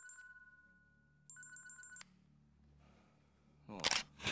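A telephone in a South Korean crime film gives a steady electronic ring, then a rapid warbling burst of rings, followed by quiet and a sudden loud noisy crash at the end.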